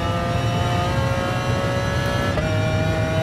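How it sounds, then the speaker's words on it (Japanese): A BMW racing car engine revs steadily at a high, constant pitch in Gran Turismo Sport, loud and close, with no speech over it. "この BMW のこのエンジン、"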